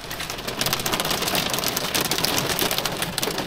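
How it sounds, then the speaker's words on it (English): Heavy rain pours down steadily in Denmark in a dense, continuous hiss, growing louder after the first half second and staying thick throughout. "that is the biblical rain starting to come down now."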